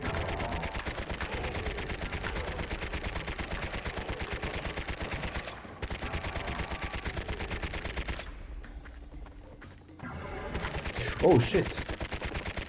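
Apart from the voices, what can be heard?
Uzi gunfire in video game Serious Sam: Next Encounter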